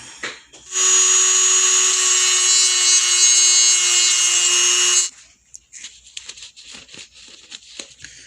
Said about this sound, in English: Now I'm going to grind that one.